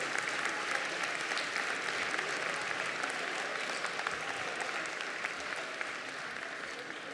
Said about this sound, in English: Round of applause for all the nominees again.